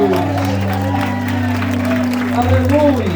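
A church congregation applauding during a sermon, clapping blended with sustained organ or keyboard music and some voices, steady and fairly loud throughout.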